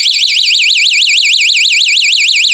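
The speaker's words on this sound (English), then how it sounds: "in order to get to the siren feature, the alarm feature, you just push the button twice quickly" A stun gun's loud electronic siren alarm warbles rapidly up and down without pause, a piercing high-pitched wail that fills the whole clip.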